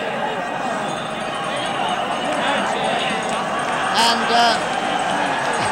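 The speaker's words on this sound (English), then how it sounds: "with the Cork crowd still chanting and roaring" The Cork crowd chants and roars at the 1966 All-Ireland hurling final against Kilkenny, a broad, steady wash of voices with a few louder swells, and a commentator is heard briefly.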